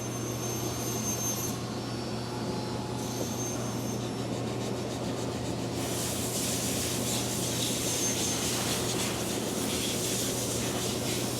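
Steady, quiet rubbing of sandpaper against a Purple Heart wood guitar neck heel, a soft continuous scratchy hiss that grows slightly brighter partway through, with no talking.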